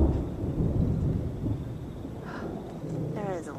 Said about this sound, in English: there is a lot of thunderstorms